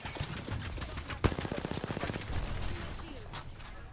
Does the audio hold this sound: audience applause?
no